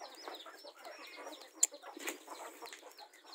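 Several backyard chickens cluck nearby in short, uneven bursts, with one sharp squawk and a faint flutter of wings.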